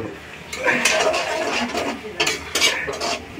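Meat cooking in a pot, with a utensil scraping and stirring against the metal in irregular bursts, fairly close and moderately loud, with a few clinking accents.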